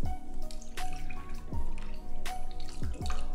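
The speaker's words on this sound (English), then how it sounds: "Then you're gonna go ahead and add the juice from the canned fruit." Juice from canned fruit poured into a che dessert mixture, a close liquid trickling and dripping with several distinct splashy plops over a few seconds and no voices.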